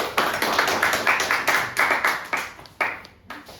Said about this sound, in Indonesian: beri tepuk tangan dulu buat Ami